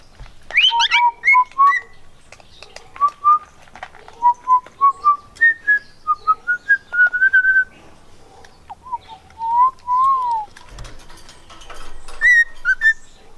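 A bird whistles and chirps repeatedly in a backyard, loud and close, with melodic whistled phrases of rising and falling notes coming in quick bursts throughout, with no talk over it.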